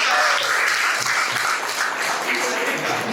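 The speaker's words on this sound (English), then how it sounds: "Please give her a clap." Youth group members at a parish youth day clap for a speaker, loud continuous applause from a room of people, with voices murmuring and calling out beneath it.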